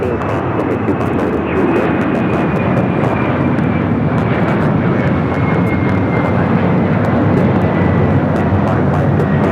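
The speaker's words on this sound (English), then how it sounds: "This is Latam Airlines 2479 taking off to Peru on the 767-300ER" Latam Airlines Boeing 767-300ER jet taking off at Los Angeles International Airport, a loud, sustained engine roar close by with a slowly falling whine, continuous throughout.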